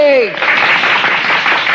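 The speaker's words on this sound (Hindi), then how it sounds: "बजाओ ताली।" An audience at a political speech in Hindi claps and applauds, a steady broadband patter that follows a short spoken phrase at the start and continues evenly to the end.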